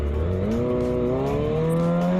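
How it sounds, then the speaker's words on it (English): Tires squeal as a car skids at high speed, a continuous, loud, rising screech that runs the whole time over a roaring engine. "The car skidded at high speed and ended up exactly where it deserved."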